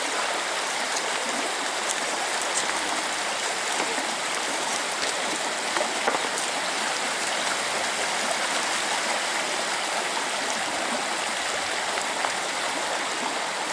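Stream water rushing steadily over the Polkovnichy waterfalls, a loud, continuous broadband roar that fills the whole stretch with no pauses and no voices rising above it.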